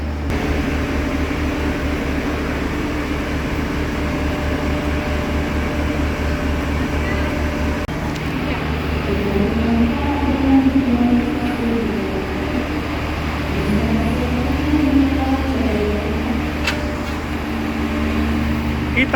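Inside a KRL commuter train on the Jogja route, a continuous low rumble and hum of the moving carriage with steady rail drone and faint clatter, while muffled voices talk softly in the background.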